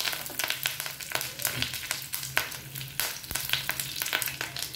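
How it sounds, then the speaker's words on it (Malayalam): Curry leaves hit hot coconut oil with popped mustard seeds while okra fry is being made, giving a steady close sizzle dotted with sharp crackles and spits. "ഇനി ഇതിലേക്ക് കറിവേപ്പില."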